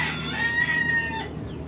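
American Bahama chickens on a home farm cluck steadily while a rooster's drawn-out crow rings loud and near across most of the clip.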